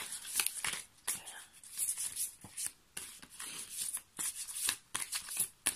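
Tarot cards are shuffled and drawn by hand, giving close, crisp papery riffles and flicks in repeated bursts with brief pauses between them.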